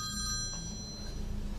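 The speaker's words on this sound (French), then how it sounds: "Vers 17 h, Lucy appelle sa colocataire." A telephone bell rings loudly and close by in the first half second, its bright repeating trill then fading while a low hum carries on, with no talking.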